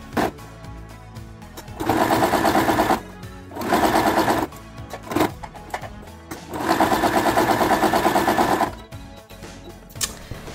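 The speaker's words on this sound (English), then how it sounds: "we are just going to sew all around this" Sewing machine stitching around fabric for a homemade grocery bag dispenser, running in three loud sustained bursts with short pauses between, close and alone with no talk.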